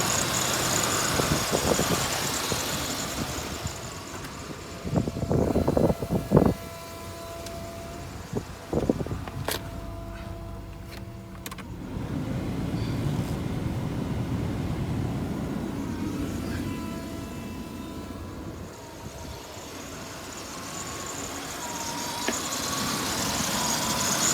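A 1982 Chrysler Imperial Frank Sinatra edition with EFI idles quietly and steadily, with a faint fan whir throughout and a few clicks and knocks partway through.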